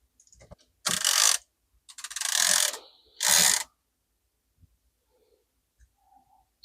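A 93-year-old Klein Continental typewriter has its carriage fitted back in, giving three loud, close bursts of metallic ratcheting and sliding over a few seconds, then quiet with faint small clicks.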